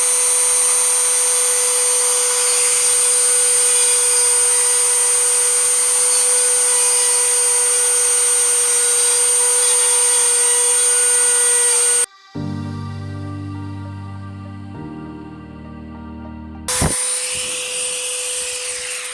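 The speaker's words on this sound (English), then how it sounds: "I'm gonna use the Dremel on full speed." A Dremel rotary tool screams at full speed while carving a wooden star, a loud, steady high whine for about twelve seconds, then cutting off into a lower winding-down hum before a brief restart.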